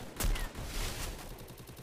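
Gunfire from the video game Free Fire sounds faintly as a quick burst of shots, one sharper crack followed by a rattle of fainter ones, with no voices.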